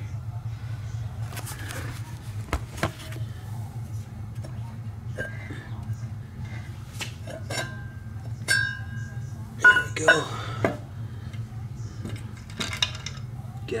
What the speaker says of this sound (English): I'll just make sure I take off my waterline fittings and the oil drain fitting.